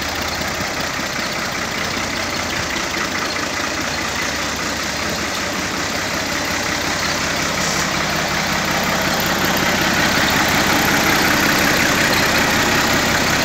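A 2012 Al-Ghazi tractor engine idles continuously at close range, a dense broadband rumble with a faint mechanical clatter and no voices, holding level throughout.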